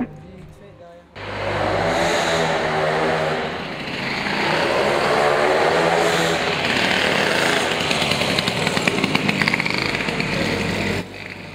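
A school project moped, a small two-stroke mobylette, running close by with a loud, steady buzzing drone that rises and falls slightly in pitch before cutting off near the end.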